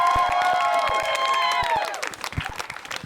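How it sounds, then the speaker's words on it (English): An audience at a school comedy show claps and cheers for the comedians, with lively applause, whoops and shouts that fade into scattered claps and chatter toward the end. "Give a big round of applause to all the comedians."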